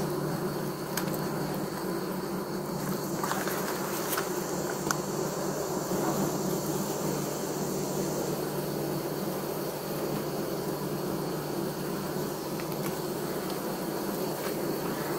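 A steady, dense drone of honeybees buzzing in an open beehive during a hive inspection, continuous and close, with a few faint clicks and no talk.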